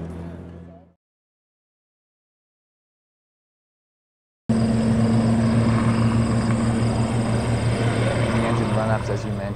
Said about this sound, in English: the helicopters overhead, these episodic kind of bursts of loud noise